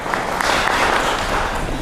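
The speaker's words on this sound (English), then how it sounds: "I think that really deserves a clap" A crowd applauding at a fuel donation handover ceremony, dense steady clapping filling the short moment.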